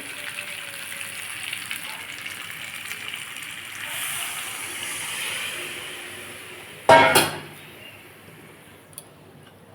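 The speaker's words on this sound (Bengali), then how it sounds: "এর মধ্যে আমি জল ঢেলে দেবো" Water poured into a simmering fish curry of rohu pieces with potato, drumstick and spiny gourd, a steady hiss of frying building up, then a sharp loud splash and gush as the water hits the hot oil, fading quickly.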